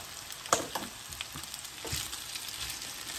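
Garlic sizzling in a frying pan with noodles and cabbage for haluski, a steady close crackle with a few stirring scrapes and clicks.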